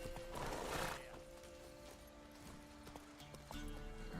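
Hooves of the horse Roach pound in The Witcher 3 game, a steady clip-clop with a brief whinny near the start, heard at moderate distance alongside faint in-game ambience.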